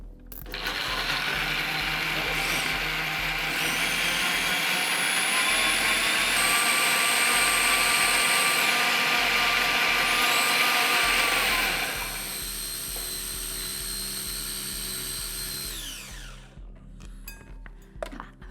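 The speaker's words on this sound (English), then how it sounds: "we're going to blend that down with some milk" A kitchen blender blitzes beetroot with milk, a loud steady whirring roar with a high motor whine that holds for about twelve seconds before winding down and stopping.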